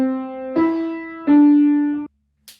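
A beginner piano phrase of three clear, evenly spaced notes, each sustained and ringing out close and clear. The last note is cut off, followed by a short noise at the end.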